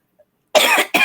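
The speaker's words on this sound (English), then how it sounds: "as I start coughing, right?" A woman coughs twice in quick succession, close and loud, a long harsh cough followed by a shorter one after near silence.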